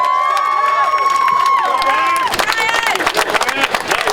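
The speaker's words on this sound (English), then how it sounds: "let's give him a round of applause" Crowd of warehouse workers at a union rally bursts into cheering and applause, starting over a sustained tonal sound, then dense, loud clapping and shouts through the end.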